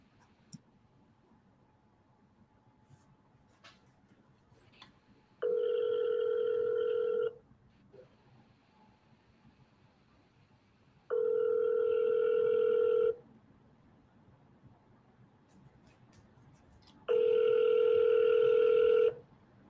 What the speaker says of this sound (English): This is gonna be a phone call.